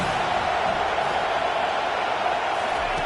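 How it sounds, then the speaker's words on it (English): Football stadium crowd roaring on third down behind the home defense, a loud, sustained wall of cheering and noise that holds steady without breaks. "Decibels rising as the crowd gets behind this defense on 3rd down."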